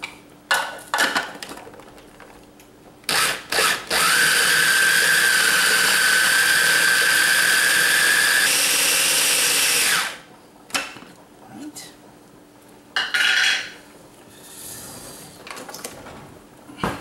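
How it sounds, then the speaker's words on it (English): A blender loudly whirs for about six seconds as it purees a sauce seasoned with nutmeg and salt, framed by short bursts of clatter and handling noise before and after. "This all gets pureed."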